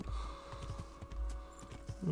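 A horse's hooves clip-clop at a steady walking rhythm in the video game Kingdom Come: Deliverance, soft and slightly muffled, with a low ambient hum underneath and no talking.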